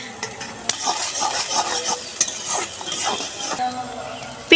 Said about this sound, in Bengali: এই যে পেঁয়াজ কুচি ভাজা হচ্ছে